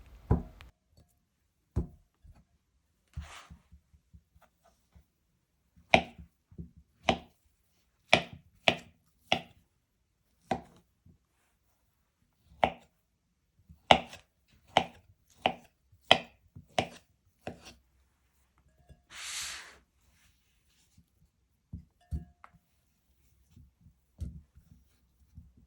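Large cooked potatoes being chopped into small pieces on a cutting board, producing sharp, separate knife knocks in irregular bursts with pauses between, close and clear, plus one short brushing scrape midway.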